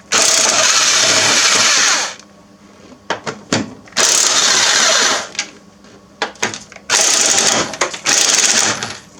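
Ratchet or impact tool loosening a 14 mm nut on a 1990 Toyota Camry strut, coming in three long, loud bursts separated by short clanks and pauses, close up, with no talking.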